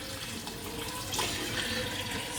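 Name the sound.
water poured into the mutton curry pot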